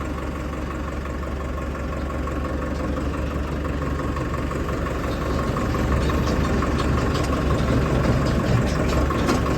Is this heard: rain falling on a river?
no